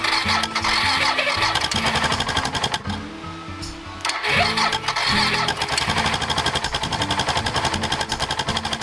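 A carbureted single-cylinder dual sport motorcycle engine starting on a cold camping trip in Oregon, cranking into a loud, steady thumping idle that runs close and continuous, with a short lull partway through before it picks back up.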